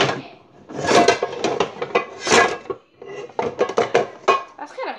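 Metal pan and kitchenware clatter as a small pan is pulled out in a home kitchen, with several clanks and scrapes across the moment and a brief pause before more rummaging; no talking.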